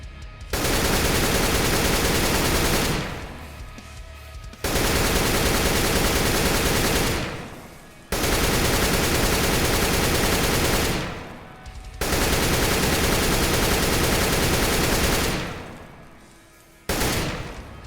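An AK-47 fires long automatic bursts during recoil practice in Counter-Strike: Global Offensive: four or five sustained, loud, rapid streams of gunfire, each lasting a few seconds, separated by short pauses.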